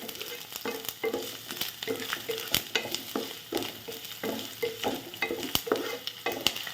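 Ginger being stirred and fried in a pan for baingan bharta, a steady sizzle under a repeated rhythmic scraping of the spatula, close and continuous with no talk.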